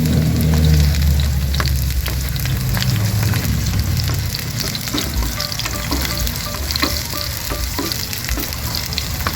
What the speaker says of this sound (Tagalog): mainit na yung ating mantika, kaya maglalagay tayo ng konting sibuyas